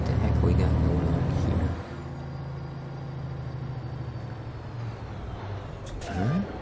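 Truck air brakes in American Truck Simulator, a loud low engine rumble with a hiss near the end, heard under a voice.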